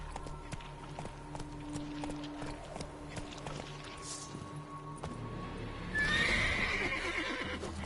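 Roach, the horse in The Witcher 3: Wild Hunt, gives a clear whinny near the end over a bed of hoofbeats and movement, with no talk.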